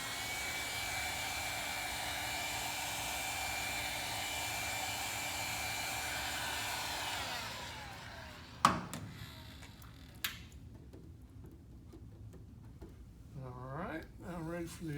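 A heat gun blows with a steady whooshing hiss while warming a custom tank pad decal on a 2020 Triumph Rocket 3 motorcycle tank, then cuts off around eight seconds, leaving faint clicks and handling noises.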